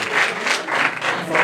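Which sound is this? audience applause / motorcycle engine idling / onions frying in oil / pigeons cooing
audience applause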